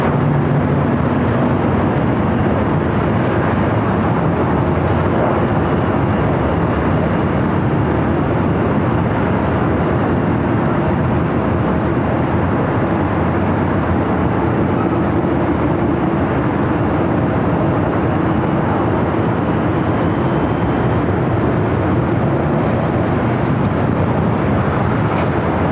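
A Southwest Airlines Boeing 737-700 at LAX roars steadily with broad jet engine noise, loud and sustained with no voices over it.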